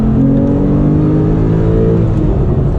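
A 2017 Porsche 911 991.2 base Carrera with a manual transmission revs and accelerates, its engine note rising steadily in pitch as it pulls hard, loud and continuous with no voices over it.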